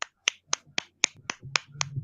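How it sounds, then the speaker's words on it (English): A run of eight sharp hand claps or snaps at a steady beat of about four per second, crisp and close, with a faint low hum under the later ones. "That was a Bajoran hand clap."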